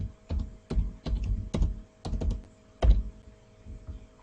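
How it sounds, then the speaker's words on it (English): Keys tapped on a computer keyboard while entering a question into a Google Form, irregular bursts of close, clear clicks and thumps with short pauses between, no talking. "suppose I type here a questions"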